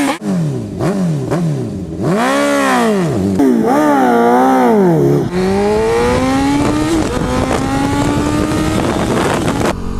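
A Yamaha WR250R motorcycle engine revs up and down through several sweeps while riding on the street, loud and close with wind rush, then a long steady climb in pitch.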